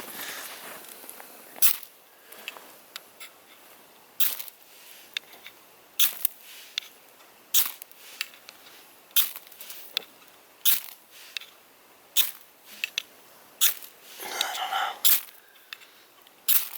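A combination ferro rod and magnesium bar struck again and again with the spine of an LT Wright Bushcrafter knife, giving sharp close scrapes in irregular bursts with quiet gaps between them.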